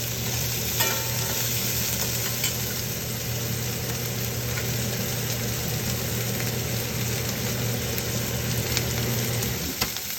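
Herbal spices sizzle and fry in hot oil as they are sautéed, giving a loud, continuous frying hiss with occasional stirring scrapes and a steady low hum underneath.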